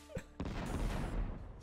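Bomb explosion in the party game Screaming Chicken, a loud booming blast that starts after a brief thump and rumbles through a sustained noisy burst of over a second.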